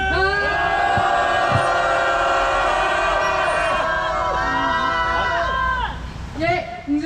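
Protesters at a press conference calling for the ouster of a Seodaemun-gu urban management corporation chairman shout together in a loud, sustained roar for several seconds. The cry then breaks off into scattered voices.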